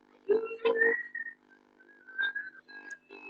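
Several people whistle together in overlapping sliding tones, a few short bursts with brief pauses between them.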